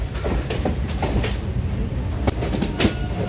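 The Saptagiri Express passenger train rolls along the rails, a loud steady rumble with rhythmic wheel clicks heard from inside a non-AC compartment, no voices.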